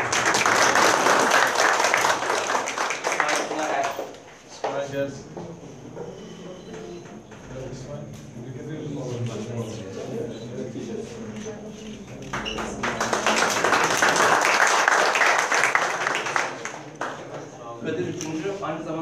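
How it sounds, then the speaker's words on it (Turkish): At a school award ceremony, students applaud a classmate who placed in a national wushu championship. Two loud bursts of hand-clapping are separated by a stretch of a person talking over a quieter hall. "Evet, arkadaşımızı alkışlıyoruz."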